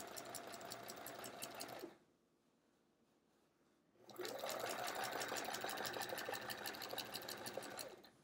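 A sewing machine stitches a quilt with metallic thread, a fast steady mechanical whir that pauses for about two seconds, then resumes louder.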